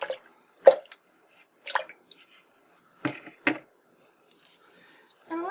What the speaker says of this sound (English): Just gonna rinse my brush.